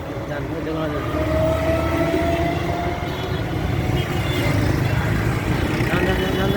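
A metro rail train rumbles past nearby with a steady, loud low roar and a faint tonal whine running through, while people talk over it.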